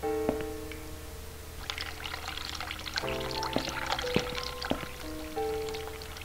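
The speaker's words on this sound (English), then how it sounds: "And the hot water tap." Water gushes from a hot water tap in the video game The Cat Lady in a steady stream, with splashy drips and clinking tones over the flow, fairly quiet.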